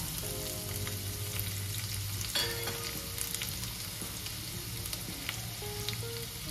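Coarsely crushed garlic hitting hot oil in a pan for a cluster bean dish, a steady close sizzle and crackle with light stirring scrapes, no talking over it.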